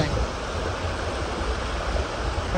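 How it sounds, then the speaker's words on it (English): A creek flows steadily beside a cabin, giving a continuous close rushing wash of water with no pauses. "right on the creek."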